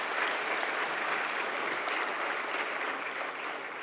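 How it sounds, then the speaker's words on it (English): An audience at an intellectual property conference applauds continuously, a thick, even roar of many clapping hands that holds steady and fades slightly toward the end. "I request you all to give a huge round of applause"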